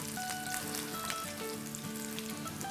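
Minced meat and stuffed bitter gourds fry in a pan over a medium-high flame, giving a steady close sizzle and crackle of oil that runs without pause, with a faint tonal hum underneath.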